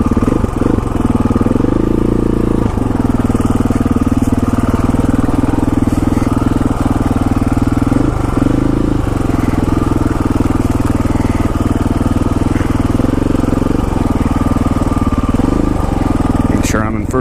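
A dual sport motorcycle engine pulls steadily in first gear on a rough county road in West Virginia, a loud, close, continuous drone with small pitch shifts as the throttle changes.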